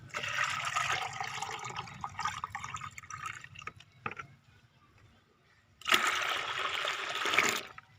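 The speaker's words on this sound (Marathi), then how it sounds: "मी दोन लिटर पाणी टाकून घेतो" Water poured into a container to make a homemade organic pesticide, about two litres in all, a steady splashing pour that stops partway, falls quiet, then starts again loudly near the end.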